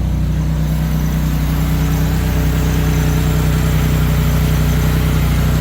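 A 1990 Toyota Tercel engine idles steadily and loudly close by after a fuel tank replacement, a low rumbling hum with a regular throb and no voices.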